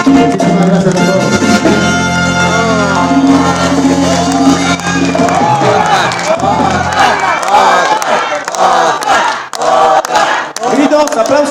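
A live crowd at a band show roars with loud, sustained shouting, whoops and cheers, rising and falling in waves close by.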